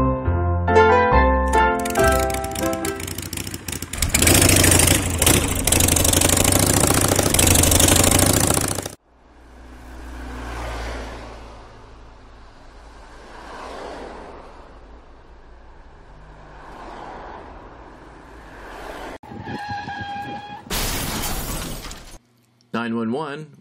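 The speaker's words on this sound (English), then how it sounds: "A motorcycle just hit a car." A motorcycle crashes into a car in a loud, harsh burst of impact and shattering lasting several seconds, followed by quieter engine idling and voices.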